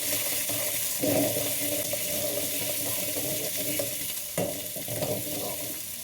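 Small shallots frying in oil for mint chutney are stirred in a pan, making a steady close sizzle with occasional scraping strokes and brief louder bursts.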